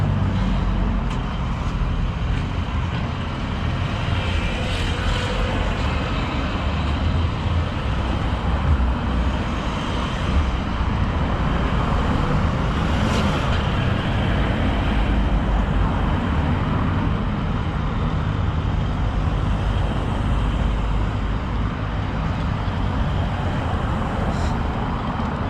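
Steady road traffic on a main road passes by as a continuous broad wash of tyre and engine noise, with occasional louder vehicles swelling and fading in the distance.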